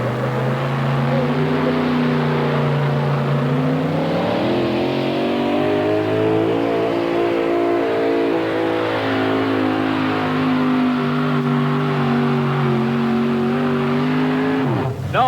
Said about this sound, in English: As the Miller High Life truck goes to the starting line with Bud Jaskey out of Wisconsin ready to go